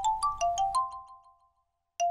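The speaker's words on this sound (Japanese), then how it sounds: "これ LINE 電話の音じゃん。" Super Mario Maker course rebuilt as the LINE phone call ringtone: a bright chiming melody of about six plucked, chord-like notes that rings out and fades, then a single note restarts the phrase; clear and alone.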